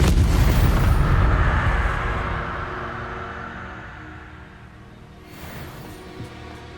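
A fiery Incendio spell blast from Hogwarts Legacy erupts loud and booming, then its roaring rumble slowly fades away, with a smaller flare near the end and no talking.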